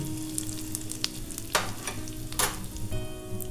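Panch phoron spices and asafoetida sizzling in hot oil with dried red chillies, a close steady frying crackle with a few sharp spitting bursts, no voices.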